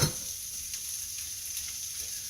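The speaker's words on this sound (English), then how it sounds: "now we're going to add our onions." Onions hitting a hot pan already browning sausage and bacon for a hash, giving a steady, moderate sizzle that settles into soft, continuous frying with no voices.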